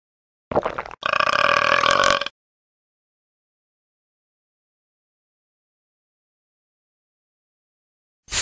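A person belches twice, a short burp followed at once by a longer, loud, rough one lasting over a second, then silence until a brief start of sound at the very end.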